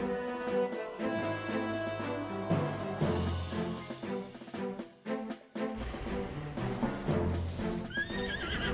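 A horse in Zelda Breath of the Wild neighs and whinnies over clip-clopping hooves, set against layered game music that swells and drops with a louder whinny near the end.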